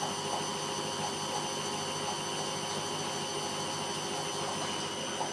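A Candy GODF800 washing machine runs its first spin cycle, a steady whirring drum hum with faint rhythmic rumbling that holds evenly for the whole stretch, with no talking.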